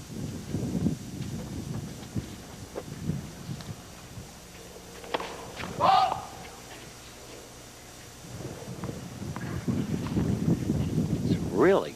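Gusty wind buffets an outdoor tennis court during a final between McEnroe and Lendl, rising and falling in rough surges under commentators' talk and crowd murmur.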